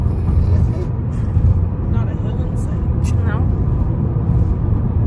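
A car driving on a rural Manitoba prairie road gives a steady, close engine and tyre rumble, with a few faint chirps and a brief higher squeal partway through.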